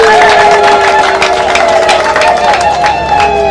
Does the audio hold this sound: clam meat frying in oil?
no